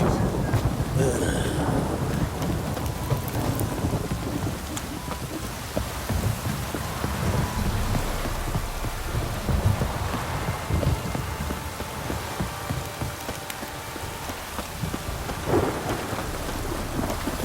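Heavy rain pours down during a storm in the game The Witcher 3, a dense steady roar of drops with low rumbling thunder rolling underneath throughout, wide and enveloping with no voices.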